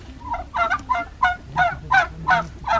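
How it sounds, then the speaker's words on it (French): A turkey's rapid, rattling gobble repeats about seven times in quick bursts, loud and close, with faint low background noise. "Ah, c'est les dindes, vous voyez."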